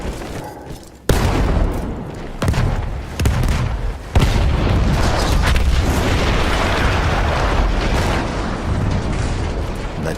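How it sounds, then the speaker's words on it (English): An artillery gun explosion in the WWI shooter Battlefield 1: a sudden loud boom breaks over faint rumble, followed by further heavy blasts and a sustained roaring barrage of battlefield noise that stays dense and loud throughout. "That explosion was one of the sweetest sights of the war for me."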